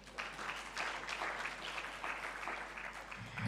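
An audience applauds at a national health care quality improvement conference, steady scattered clapping heard faintly from across a large hall.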